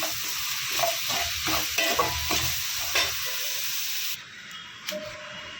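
Tomatoes with rock salt sizzle in a pan while a spoon stirs and mashes them, with repeated scraping strokes over a steady frying hiss before it quiets near the end.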